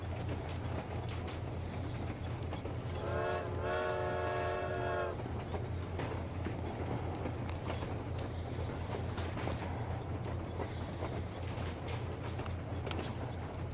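A train horn in the video game Metro Exodus sounds one long sustained blast over the steady rumble and clatter of the moving train, with rolling wagon noise continuing after.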